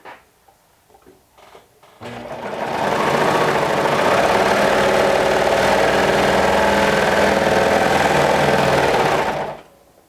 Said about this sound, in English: So I'll start by sewing the two tops, the top pieces right sides together.